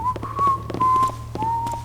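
A mage in the stealth video game Thief Gold whistles a wavering tune in several short phrases, clear and near, over a low steady ambient hum and scattered soft ticks.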